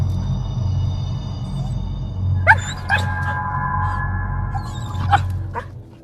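Nervous dogs on a forest path let out a few short, sharp barks and yips partway through, standing out clearly over a steady low rumble of background noise.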